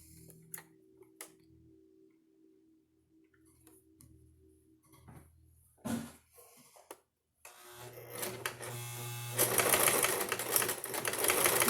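A sewing machine back stitches a fabric face mask, its motor whirring in steady runs with ticking needle strokes after sparse clicks and handling noises early on.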